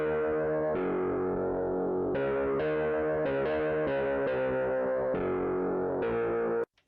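A Crumar Spirit 2023 edition synthesizer plays a sequence of sustained, buzzy notes with LFO keyboard-hold modulation, each key press bringing in a gradual wobble, loud and up close before cutting off at the end.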